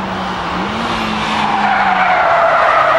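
A Nissan GT-R and a Pulsar GTI-R race side by side into the first corner, tires squealing in a sustained wavering whine over loud, close engine roar that holds steady throughout.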